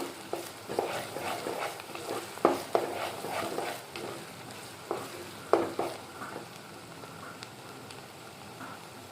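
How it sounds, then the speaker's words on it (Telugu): Onions fry gently in a pan for a yam and green mango curry, a faint, low sizzle punctuated by intermittent spatula scrapes and taps at an irregular pace, without any voices. "ఉల్లిపాయలు ఎలా ఫ్రై అవుతున్నాయి కదా."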